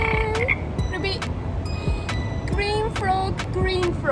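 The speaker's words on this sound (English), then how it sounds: "I see a green frog looking at me." A green frog croaks repeatedly in an uneven rhythm, with bright chirping tones over a steady, busy background.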